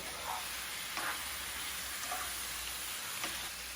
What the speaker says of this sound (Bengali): এখন ভালোভাবে চিকেনটাকে কষিয়ে নিব।